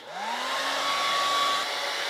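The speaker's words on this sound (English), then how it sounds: "as soon as you hear about 10 seconds of hair drying, I will stop recording" A hair dryer whirs loudly and steadily, its motor pitch rising as it spins up, then running at an even drone.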